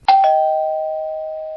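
A doorbell rings once, loud and close: a two-note chime whose second tone rings on and slowly fades.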